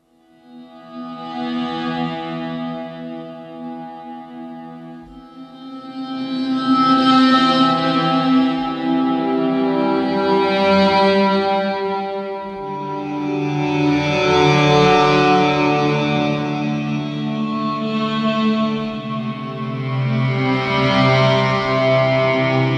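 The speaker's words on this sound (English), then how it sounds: "So there is quite a lot of reverb going on there" Sample from the Liminal bundle by Crocus Soundware: sustained layered ensemble tones drenched in heavy reverb, swelling and fading in slow waves over long washing tails, with no talk.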